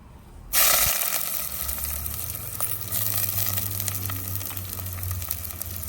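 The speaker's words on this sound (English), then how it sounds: "Fry it until golden brown." Onion drops into a hot clay pot for a Sri Lankan Negombo fish curry and bursts into a loud sizzle that settles into steady close frying, with faint crackles and a low hum underneath.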